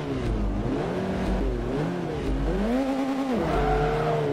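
Volkswagen Golf R engine in the racing game Forza Motorsport 3, loud and continuous, its pitch rising and falling with repeated revving and gear changes, with a touch of tire noise.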